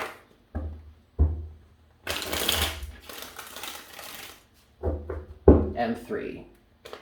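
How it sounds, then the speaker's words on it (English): Tarot cards shuffled by hand at close range in several crisp, papery bursts, with one long riffling stretch in the middle and shorter flicks before and after. "3 shuffles"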